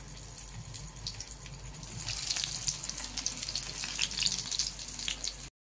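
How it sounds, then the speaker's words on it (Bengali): Pointed gourd (potol) chops fry in hot oil, a continuous crackling sizzle that grows louder and busier partway through, heard close and alone before cutting off abruptly near the end. "এইভাবে আমি ভাজতে থাকবো, আপনারা দেখতে থাকুন। পুরো পটলটাই আমি এইভাবে ভেজে নেব।"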